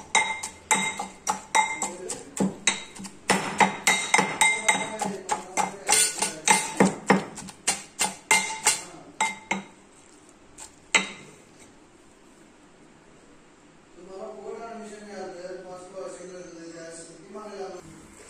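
A spoon stirs raw mango and dal chutney in a bowl, tapping and clinking against the sides in a quick, steady rhythm for several seconds before stopping, after which someone speaks.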